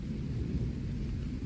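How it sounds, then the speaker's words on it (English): Thunder from a lightning storm rumbles low and steady throughout, a deep continuous roll with no voices over it. "20 seconds later, thunder."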